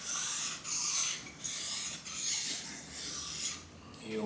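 An HSS jointer knife is rubbed flat on a sharpening stone in steady back-and-forth strokes, a close, rhythmic gritty rasp repeating about seven times with no talk.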